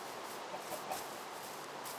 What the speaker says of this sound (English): Tired of all these chickens.